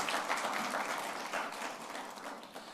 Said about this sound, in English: Let us appreciate our sponsors with a big round of applause.